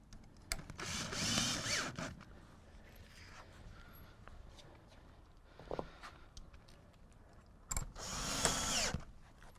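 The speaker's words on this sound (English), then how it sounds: "And then we'll put our screws in." A power drill drives screws into log siding, with two loud whirring bursts near the start and end separated by quieter handling noises and a brief clank.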